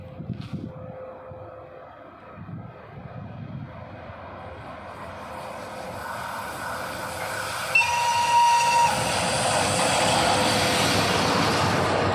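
The Truskavets–Dnipro passenger train, hauled by a VL80 electric locomotive, approaches from a distance with a low rumble that swells into a loud, fast rushing roar of wheels and cars passing close by.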